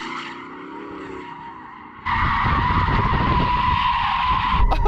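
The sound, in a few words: Porsche Cayenne Turbo GT SUV doing donuts, tyres skidding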